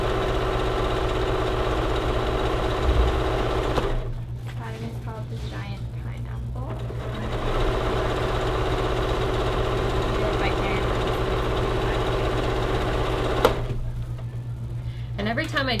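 Sewing machine stitching Giant Pineapple quilt pieces, a steady motor whir with a soft mechanical hum. It stops briefly twice, and a faint murmuring voice comes through the pauses.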